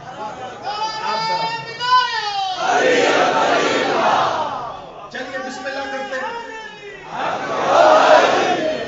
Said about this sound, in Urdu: آپ نے پیٹ بھر کے نعرے لگائے